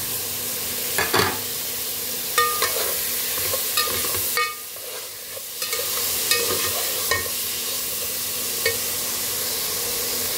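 Peas are stirred in a hot frying pan, giving a continuous sizzling hiss broken by irregular scraping and clinking strokes of the utensil, close up and steady throughout.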